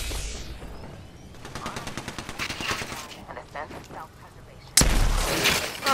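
Rapid automatic gunfire in the Apex Legends video game, bursts of shots rattling through a chaotic firefight with a loud blast near the end, heard alongside game sound effects.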